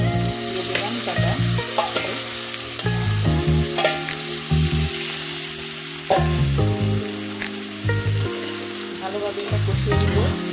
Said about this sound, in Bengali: ভালোভাবে এটা কষিয়ে দেবো।